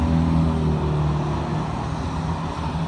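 Steady rumble of road traffic near a county building, engines droning close by with low tonal hum and no break in the flow, loud and continuous throughout.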